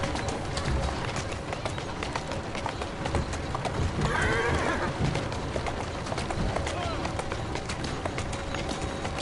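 Horse hooves in the Assassin's Creed Syndicate video game, a steady run of clip-clop beats under game ambience, with a brief voice and a faint whinny midway.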